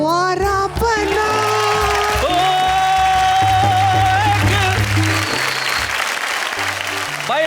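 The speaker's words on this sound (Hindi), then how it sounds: "बड़ी खुश होकर तालियां बजा रही थी" An audience at a Hindi comic poetry show claps steadily for several seconds, a dense wash of applause mixed with cheering, with instrumental music tones playing through it.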